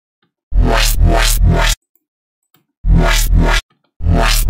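Bright phaser laser bursts synthesized in Sytrus, with a sweeping, phasing buzz, played in short loud stabs separated by silent gaps, electronic and up close.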